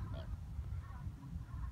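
Geese honk faintly at a distance on the water at Keyhaven, Hampshire, with a few scattered calls over a low wind-like rumble and no voices.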